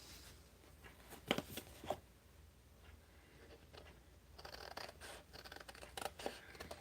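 Scissors cut paper in a handful of sharp, close snips with a quieter run of rustling cuts toward the end, soft and intimate with no talking.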